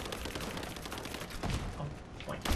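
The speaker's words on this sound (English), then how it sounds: "Where's the guy shooting at me?" Dense enemy gunfire in Rise of the Tomb Raider rattles in sustained, overlapping bursts with a few heavier shots, loud and close throughout.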